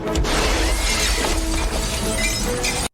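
Glass shattering in an action scene from the 1998 Steven Seagal film The Patriot: a loud, sustained crash of breaking glass with scattered tinkling debris, lasting almost three seconds before cutting off abruptly.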